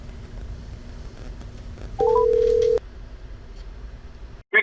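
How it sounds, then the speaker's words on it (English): A telephone being dialed to call someone: a short series of quick keypad tones, then a steady dial-style tone for about a second, ending in a brief electronic blip over a low background hum. "let's get her on the phone"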